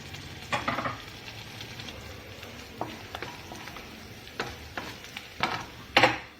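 Curry leaves hitting hot oil in a pan for a vrat sabzi: a low, steady sizzle with occasional spatter bursts and a few stirring clicks, close and fairly quiet, with no talking.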